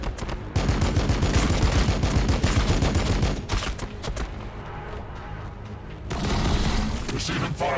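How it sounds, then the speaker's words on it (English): Battle gunfire as Blood Angels engage Xenos in Battlesector: continuous loud bursts of rapid shots and booms throughout, with sustained combat din and a brief lull midway. "Receiving fire"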